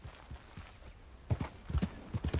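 Hooves clip-clop at an easy, uneven pace from a horse in the video game Red Dead Redemption 2, the clopping close and moderately loud, with no talking.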